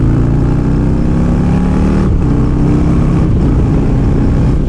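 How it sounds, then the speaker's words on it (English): Heard from inside a Biltwell Gringo motorcycle helmet, the bike's engine gives a loud, steady drone under a constant rush of wind, with a brief dip around midway as the engine note shifts. No one speaks. "like the noise of the bike, the noise of the wind, it's not bad like whatsoever"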